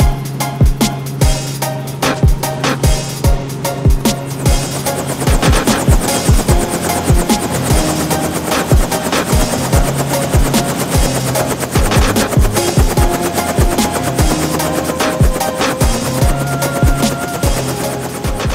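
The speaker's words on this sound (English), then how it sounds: "That was the first time I got on a chopper." A helicopter in flight gives a loud, steady rotor roar with rapid chopping pulses that continue throughout, mixed with a dense rumble and no talking.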